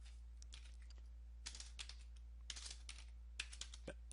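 Quiet taps on a computer keyboard as a command is typed while fixing a Lenovo PC, with a few clusters of keystrokes over a steady low hum.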